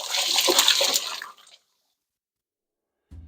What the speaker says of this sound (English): And we're going to drain the water.